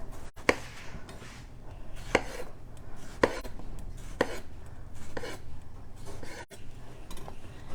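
A knife chops tomatoes on a cutting board in a kitchen, giving crisp, close, evenly spaced thunks about once a second with soft slicing sounds between them.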